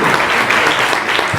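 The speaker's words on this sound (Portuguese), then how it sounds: "Mário, por favor, levanta para receber palmas." Audience applause fills a hall at the MSX Summit in São Paulo, steady dense clapping from a crowd throughout, loud and close with no pause.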